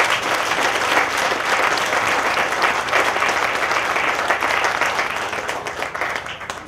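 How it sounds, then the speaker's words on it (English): A crowd at an outdoor community park dedication and celebration gives a sustained round of applause, thick and steady at first and thinning slightly near the end. "So please give them all a round of applause for what they did."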